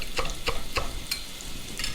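Scallions stirred into a pot for Jamaican pumpkin rice, giving four or five soft, evenly spaced scraping strokes over a low, steady cooking background, close by with no talk.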